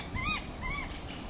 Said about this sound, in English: I don't like those horrible birds.